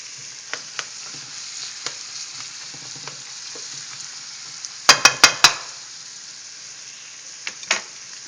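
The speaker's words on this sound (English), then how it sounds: "We're going to saute this. Until they are all wilted." Vegetables for crawfish étouffée sauté in a pot with a soft, steady sizzle, broken by scattered stirring scrapes and a quick burst of four sharp metal clinks partway through, close up with no talk.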